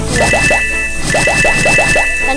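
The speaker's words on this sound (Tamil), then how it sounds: "தண்ணி ஊற்றி பிடிக்க போகிறோம் ஃப்ரெண்ட்ஸ்" Water poured onto toy plants in a doll game: a run of quick, squishy liquid splashes in two bursts, close and fairly loud, over a thin steady whine.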